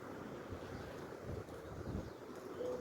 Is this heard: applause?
no